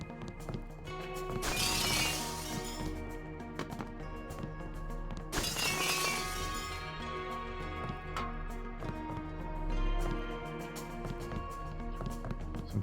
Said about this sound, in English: Sometimes it pays to break glass,